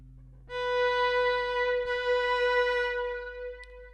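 Chime bar rung with a bright, ringing tone that sustains for about three seconds and slowly fades, with faint talk heard just before it starts.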